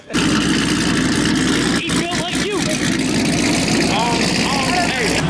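Engines of a Camaro SS and a BMW 340 rumble loud and steady at a Chicago street race, with a continuous idling drone and brief revving, while people talk nearby over the noise.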